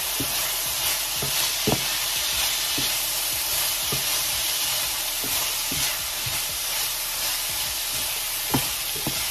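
Baguio beans adobo with carrots is stirred in a hot frying pan, a loud steady sizzle with the spatula scraping in periodic sharp strokes, close up and without voices.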